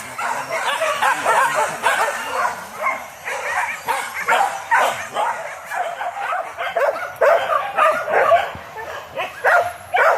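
Hunting dogs bark and yip excitedly during a wild boar hunt in Banda, Solok. Several dogs overlap in a rapid, continuous chorus of high barks and whines at close to middle distance.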